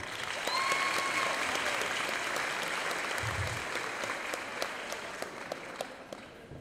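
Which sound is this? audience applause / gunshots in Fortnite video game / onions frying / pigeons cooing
audience applause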